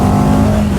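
A CFMOTO 700 CL-X Sport motorcycle engine accelerating in sport mode gives a loud, steady, close drone with a rising tone, heard alone for under a second.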